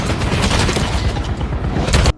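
Dense, continuous volley of gunfire from gang members in a staged shootout, loud and close with heavy booming shots overlapping throughout before cutting off abruptly.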